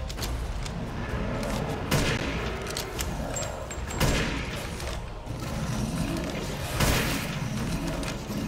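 Gunfire from a slow-firing weapon in the video game Resident Evil Village, a few heavy booming shots spaced seconds apart over a dense background of game sound.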